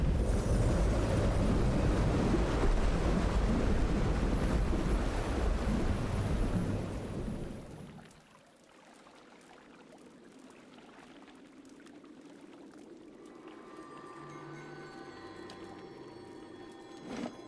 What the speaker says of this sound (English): Heavy rumble all around you and the sound of rushing water.